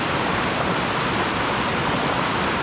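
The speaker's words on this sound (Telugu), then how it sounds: "ఈ వాటర్ ఫాల్స్ మీరు చూడడానికి అక్కడి నుంచి ఇక్కడ దాకా వచ్చింది" The Dumpavalasa waterfall gives a steady, loud broadband rush of falling water with no break and no voices.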